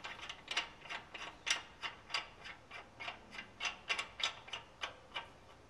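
A spindle removal tool ratchets on a Dana 30/44 axle spindle, producing a quiet, close series of about seventeen evenly spaced metallic clicks in a steady rhythm.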